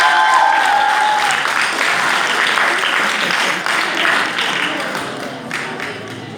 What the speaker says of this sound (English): Clap for him one more time.